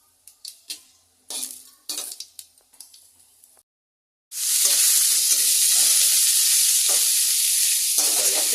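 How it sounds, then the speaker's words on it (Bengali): Bay leaf, dried red chilli and five-spice seeds tempering in hot oil in a wok, preceded by several sharp clinks of utensils and pans, then a sudden loud, continuous close sizzle. "কড়াতে আগে তেল দিয়ে দেবো। ফোড়ন দিতে হবে তেজপাতা, শুকনো লঙ্কা, 5 ফোড়ন।"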